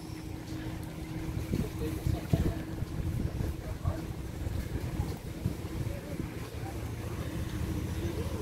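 Canoe travelling down a river at Caraíva, Bahia, with steady water and boat noise plus wind buffeting the microphone throughout, and voices faintly mixed in.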